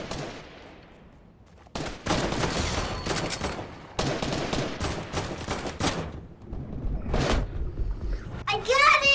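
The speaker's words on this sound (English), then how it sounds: "there's somebody shooting at us" Rapid gunfire from the Fortnite video game erupts in long loud bursts after a quieter opening, with repeated sharp shots and a voice talking over the action.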